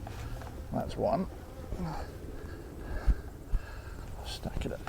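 Honey bees buzz around stacked hive boxes in a bee yard, a steady close insect hum with a few louder passes near the microphone, while someone talks over it.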